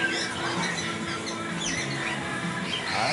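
An umbrella Moluccan cockatoo squawking, harsh raspy calls that sound close and fairly loud, repeating over a few seconds against room noise.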